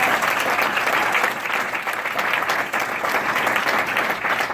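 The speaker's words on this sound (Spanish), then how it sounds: "Dele fuerte esas palmas al Señor." A church congregation claps hard and steadily together in worship, a loud, continuous wash of palms with no speech over it.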